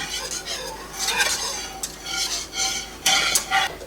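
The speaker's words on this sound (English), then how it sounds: "We're going to go ahead and whisk this in." Salt and pepper are whisked into a mixture in a bowl, making close, brisk scraping and clinking strokes of metal against the dish in uneven bursts.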